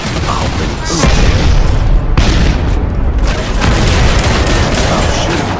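Bomb blast in the Modern Combat 5 shooter game: a loud, dense booming burst with gunfire-like crackle that holds steady across the stretch, with a player's voice talking faintly underneath.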